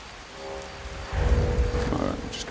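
Steady rain falls in the video game Skyrim, a soft hiss that swells into heavier, denser rainfall with a low rumble partway through, heard without talk.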